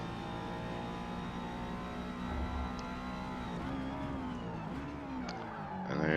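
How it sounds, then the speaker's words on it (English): Honda S2000 racing at Virginia Raceway in Forza Motorsport, its engine droning steadily at high revs, then pitch dropping and wavering as the car runs off track, ending with a harsher surge of noise. "I end up not braking hard enough there, and I go off track."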